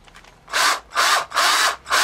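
A power drill with a spurred bit bores into wood in four loud, close bursts of about a quarter second each, separated by short pauses.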